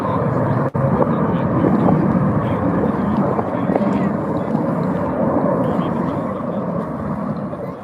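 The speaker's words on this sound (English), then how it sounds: "And just touching down the number 4 aircraft, Navy Lieutenant Scott Goosens." Blue Angels jet aircraft touching down at an air show, a steady loud roar of engine and rushing air filling the whole clip, heavily wind-buffeted.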